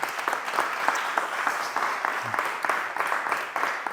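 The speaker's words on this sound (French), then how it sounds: "Bien d'applaudissements pour Louis pour avoir organisé ça aujourd'hui." Conference audience applause for an organizer, a steady mid-distance wash of many hands clapping with a few sharper claps standing out, sustained for the whole stretch.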